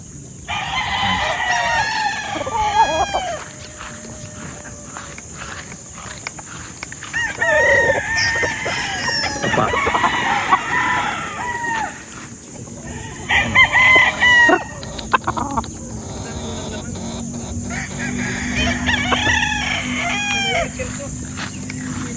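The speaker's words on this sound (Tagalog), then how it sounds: "Ang gaganda ng mga manok." Imported chickens and roosters crow repeatedly in drawn-out bursts while hens cluck around them, loud and close, with a constant low hum underneath.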